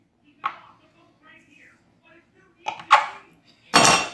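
A kitchen knife cuts a rested ball of pasta dough on a floured surface, heard as a few sparse, close knocks and thuds of the blade against the board with quiet pauses between them.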